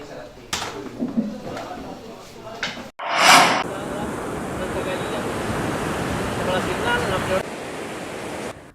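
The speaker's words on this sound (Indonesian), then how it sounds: "ombak kembali mengganas dan mengikis pondasi rumah mereka" Ocean waves at Pasir Baru beach in Sungai Limau, Padang Pariaman, pounding the shore and eating away house foundations: a loud, continuous roaring surf after a few seconds of quieter sounds, with a voice speaking over it.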